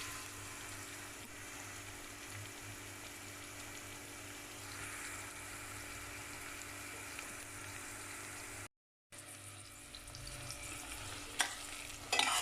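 Turmeric, chili powder and ginger-garlic paste fry in a pan, a steady, close hiss and sizzle that runs on at an even level, breaks off briefly, then returns with a few clatters, with no talk.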